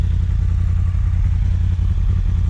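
A Yamaha FZ10 1000cc motorcycle with a catalytic converter delete runs at a steady idle. The engine gives a close, continuous low rumble with a slight clatter, and no one speaks over it.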